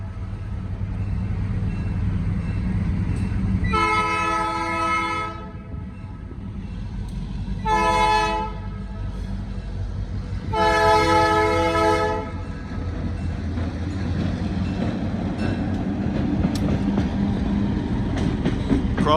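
An Indiana & Ohio Railway train runs down a street past a fire department, sounding three loud horn blasts over a steady low rumble of rolling cars and engine.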